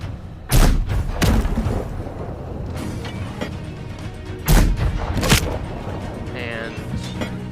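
Two pairs of heavy booms from ship cannons firing in Sea of Thieves in VR, separated by a few seconds, over a constant background rumble.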